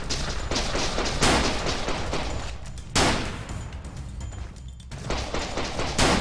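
Bursts of gunfire in the indie Japanese FPS video game The Legend of Alfur, with sharp loud volleys at about one, three and six seconds over continuous rattling shots and booms, with no talking.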